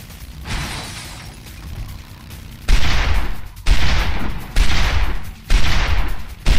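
Bursts of rapid gunfire in the motorcycle combat game Road Redemption, loud and close, in four heavy volleys about a second apart after a quieter rumbling stretch.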